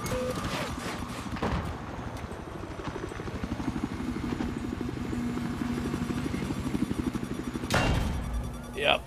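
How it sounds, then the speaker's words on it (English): Battlefield 4 helicopters over Shanghai thrum with a steady rotor chop throughout, joined by a sharp burst near the end amid game noise. "Oh, they're choppers up."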